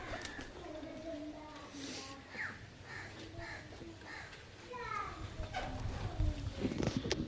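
Rajasthani Kalmoye pigeons let out from a loft, with scattered bird calls and soft fluttering under someone talking close by, growing busier toward the end.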